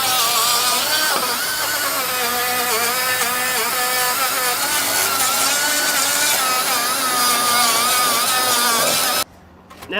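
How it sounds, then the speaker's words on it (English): A grinder wheel grinds material off a cabover truck, producing a loud, steady high-pitched whine with a harsh rasping edge that runs for about nine seconds and then cuts out abruptly. "This stuff just needs to be like whacked off with a grinder wheel."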